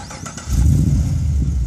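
A car engine cranks and catches after a remote start, settling into a steady low idle that runs on alone at close range.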